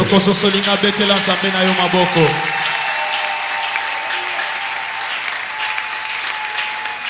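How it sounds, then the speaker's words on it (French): A church congregation applauds together, loud clapping over music and voices that fades after a couple of seconds, leaving a quieter room with ongoing background sound. "Si tu m'as compris, tu dois applaudir ton Dieu."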